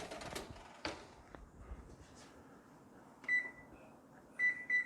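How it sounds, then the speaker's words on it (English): An oven timer is set in a home kitchen, giving several short electronic beeps near the end after some handling clatter and faint background noise. "I'm going to put the timer on 10 minutes"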